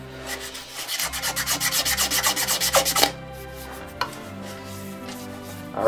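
Pine wood being sanded by hand with 220 grit sandpaper, about fifteen quick rhythmic back-and-forth rasping strokes close up for two seconds, then a soft scrape and a light tap in quieter surroundings.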